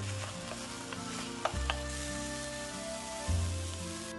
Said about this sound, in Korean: 으깬 두부는 달군 팬에서 볶아요.